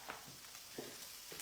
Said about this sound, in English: All right, that sizzle.